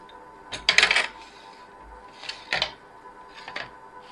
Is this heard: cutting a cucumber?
yes